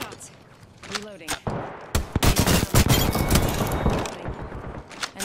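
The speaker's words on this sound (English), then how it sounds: "Getting shot at." In the battle royale game Apex Legends, loud bursts of close gunfire crack in rapid volleys and sustained automatic strings, with a voice speaking briefly between shots.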